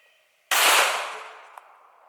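One Hornady Critical Duty round fired into a steel sheet barrier: a sharp, loud gunshot with a long ringing decay, plus a faint metallic tick shortly after.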